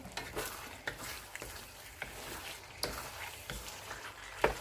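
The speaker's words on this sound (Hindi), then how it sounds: "ऑयल छोड़ दिया, अच्छे से भून गया हमारा चिकन।" Chicken frying in oil in a covered pot for shalgam chicken gravy, a low continuous sizzle punctuated by several sharp spatula scrapes and knocks, fairly quiet, without speech.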